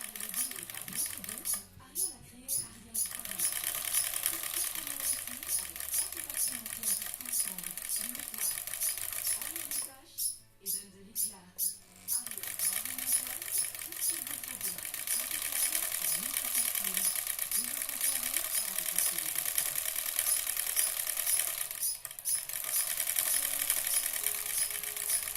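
A Singer Featherweight 222K sewing machine runs steadily while stitching a large collar ruffle, its fast even whir going on for most of the stretch, with brief pauses and a person talking over it.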